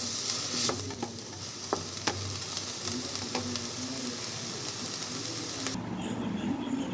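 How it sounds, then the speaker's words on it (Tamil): Grated coconut sizzles and crackles in a hot pan as it is sautéed until golden, with occasional scrapes and taps of a spatula stirring it. "இந்த தேங்காய் வந்து பொன்னிறமாக வர வரைக்கும் வதக்கி விட்டுக்கோங்க"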